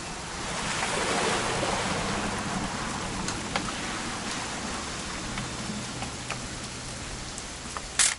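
Heavy rain in the video game What Remains of Edith Finch pours steadily with a rushing, surf-like wash, scattered sharper drips and taps near the end, and no one speaking.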